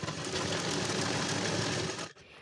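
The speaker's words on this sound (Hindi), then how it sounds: "उसके ऊपर सिलाई लगानी है।" A sewing machine runs fast and evenly as it stitches a fabric strip for an Afghani salwar, giving a close, continuous mechanical rattle that stops abruptly near the end.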